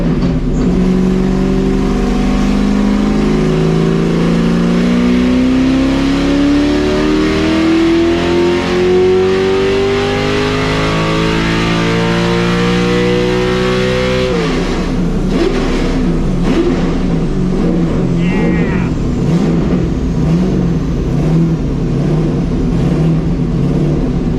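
A car with a nitrous setup revving hard on a dyno, engine pitch climbing steadily for about fourteen seconds before cutting back to a rough, lumpy idle, loud and close with no talk.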